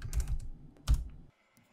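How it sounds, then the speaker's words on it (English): Fast typing on a computer keyboard as a terminal command is entered, a quick flurry of close key clicks for about a second, then quiet. "And now let's type out npm update."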